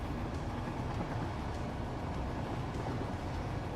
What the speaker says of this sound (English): So we ride the train here.